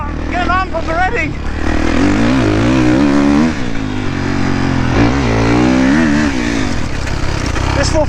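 A 450 dirt bike engine revs hard and continuously while being ridden, loud and close, its pitch rising and falling with throttle changes, with a rider's voice talking over it.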